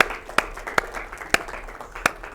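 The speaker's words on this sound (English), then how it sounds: "Oh yeah, we haven't been clapping tonight." Sparse, scattered hand claps from a small group of student senate members at a meeting, a few distinct sharp claps standing out over a faint, thin background of room noise.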